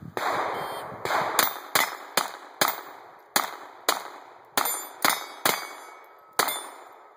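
Gunshots ring out on a practical shooting competition stage, each crack followed by the clang of a steel target, a dozen sharp near impacts in quick irregular bursts with no talk.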